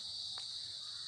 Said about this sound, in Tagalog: Puro kuliglig, walang tao ang kalsada.